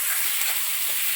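Onions salted and stirred in a frying pan for a Kerala duck curry, a brief, steady hissing sizzle with faint stirring movement, heard close and alone.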